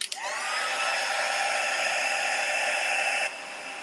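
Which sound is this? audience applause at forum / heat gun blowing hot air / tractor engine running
heat gun blowing hot air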